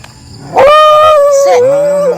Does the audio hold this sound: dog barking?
yes